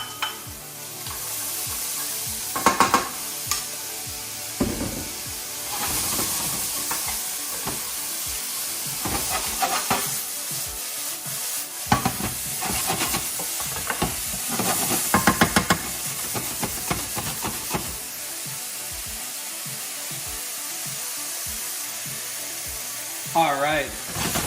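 Onion, scallion bottoms and garlic sizzle steadily in a hot pan while a wooden spoon scrapes and stirs with irregular clattering knocks throughout, close and fairly loud.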